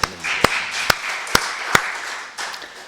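A church congregation at a Sunday worship service claps in a slow, even rhythm, five sharp hand claps ringing out clearly over a faint murmur of the room.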